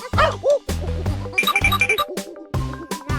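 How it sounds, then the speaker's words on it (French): A small, cute dog yaps in a quick run of high, sharp barks and yips, close and loud, with a brief whining tone partway through. "c'est le petit chien mignon et adorable"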